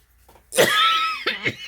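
A single loud, raspy cough with a strained vocal tone, followed by a shorter second cough.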